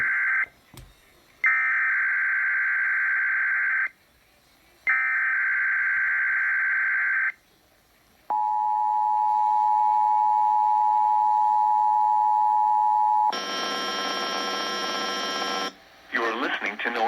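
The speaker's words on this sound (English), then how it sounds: "The preceding tone signals were a test of the alarm device of this weather radio station." NOAA Weather Radio station KIH35 in Pittsburgh on 162.55 MHz runs an alarm test: loud two-tone bursts with short gaps, then a long steady single tone, then a harsh buzzing data burst before a brief pause.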